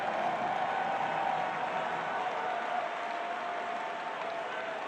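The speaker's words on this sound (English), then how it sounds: "Surge of noise through the stadium." A stadium crowd at a U.S. Open Cup soccer match between Minnesota United and Philadelphia Union roars and applauds after a goal, a dense sustained wall of cheering that eases slightly toward the end.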